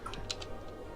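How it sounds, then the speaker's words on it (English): A few quick, light keystrokes tap on a computer keyboard at close range, irregular and soft, during a Guild Wars Prophecies playthrough. "You have probably heard me typing away at my keyboard then"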